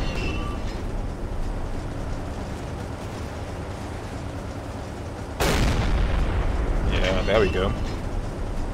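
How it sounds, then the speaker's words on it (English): Submarine deck gun fire and detonations on an enemy ship in the naval game Silent Hunter 3, a steady rumbling roar with a sharp loud blast midway, followed by a heavier boom and a brief spoken remark. "More detonations on the enemy ship. The gun keeps shooting at them."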